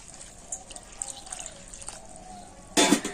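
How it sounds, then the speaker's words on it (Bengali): Water poured from a tap or jug onto flattened rice (chira) in a bowl, a soft dribbling trickle through most of the moment, then a brief louder splashing gush near the end. "চিড়ের মধ্যে আমি জল দিয়ে দিচ্ছি"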